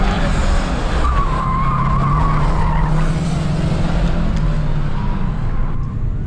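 Tires skid and squeal steadily as a car spins donuts somewhere off at a distance, a continuous loud rubber-scrubbing wail over engine drone that runs unbroken for several seconds with no talking.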